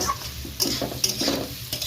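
Chhena bhujia being stirred as it fries in a pan with salt, giving continuous sizzling broken by scraping stirs and a few clinks of utensil on pan.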